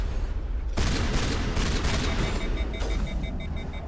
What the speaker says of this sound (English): my shotgun only has 3 shots before it overheats